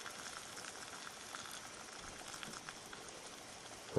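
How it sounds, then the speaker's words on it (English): Water in a pot at a gentle simmer with the lid off over a pop-can alcohol stove, a steady soft fizzing and crackling hiss that stays even and fairly quiet throughout. "you'll see that calms down to a nice gentle simmer with the lid off"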